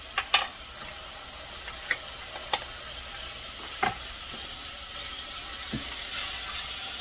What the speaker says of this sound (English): I'm just going to sweat this down till the onion is translucent before I start adding other things to it